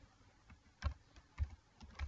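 Short bursts of typing on a computer keyboard while a macro name is entered in Excel, a few distinct soft thumping keystrokes spaced unevenly, close and quiet, with no voices.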